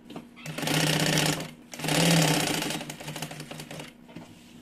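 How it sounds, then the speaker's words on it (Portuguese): A sewing machine runs in two long, steady bursts of stitching on a mini backpack, with a brief pause between them and a lighter, choppier run of stitching at the end. "Vai costurar embaixo."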